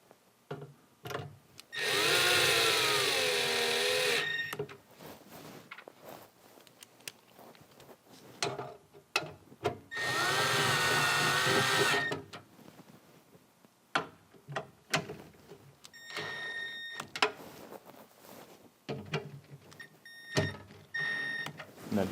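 A power driver runs in two sustained whirring bursts, each about two seconds, driving sheet metal screws into the filter shroud of a MAG-200 dust collector, with light handling clatter between them.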